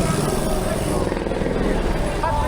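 Helicopter passing low overhead during a motorcycle ride, a loud continuous rotor drone that fills the clip, heard close and steady.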